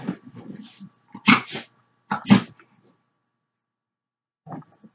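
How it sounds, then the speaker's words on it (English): Dogs bark and growl in short, loud bursts nearby, a few yips and snarls clustered together, then a pause before one last brief bark. "Dogs are pretty much going crazy right there."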